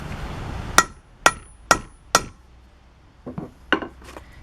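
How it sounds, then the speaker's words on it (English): Four sharp, ringing hammer strikes on a metal socket at an even pace, followed by a few lighter, quicker knocks, close and distinct against quiet. "if you hit this and you need a hammer"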